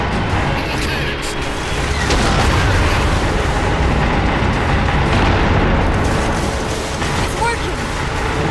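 Cannons fire at the Didact in the video game Halo 4, a dense, continuous roar of booming blasts and rumbling impacts layered over one another, loud and unbroken throughout.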